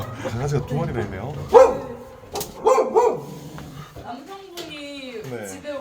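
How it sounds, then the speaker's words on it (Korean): Two pet dogs in a home, one a timid former street dog, give sharp barks, yips and whimpers in short bursts at close range, mixed with human voices. "강아지가 2마리나 있네요"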